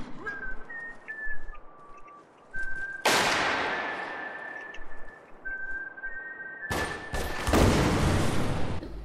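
Gunfire and explosions from a Spec Ops: The Line multiplayer match. Thin whistling tones drift at first, then two loud, sharp blasts hit about four seconds apart, each trailing off into a rumbling decay.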